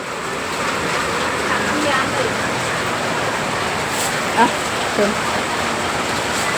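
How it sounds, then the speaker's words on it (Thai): Steady heavy rain pours in a constant dense hiss at Mahachai market in Thailand, with faint voices murmuring underneath. "ฝนตกแรงขนาดนี้นะ"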